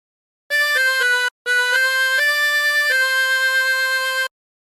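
A reedy 24-hole tremolo harmonica plays a short melody alone, a brief phrase then a longer one of held, wavering notes.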